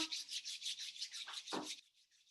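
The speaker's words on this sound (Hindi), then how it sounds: "फिर दोनों हाथ को आपस में रब कर लें।" Two hands rub briskly together during a guided meditation, giving soft, rhythmic swishing strokes that are close and quiet, then trail off into near silence.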